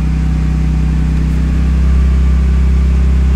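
An open-top car's engine idles steadily nearby, a low constant rumble with a slight rise in intensity partway through.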